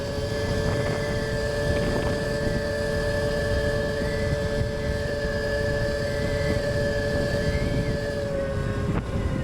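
Goat Power Dirt Goat 96v v2 electric bike accelerating to top speed in Sport mode, a steady high motor whine with sustained tonal hum over rushing wind noise, holding constant near top speed.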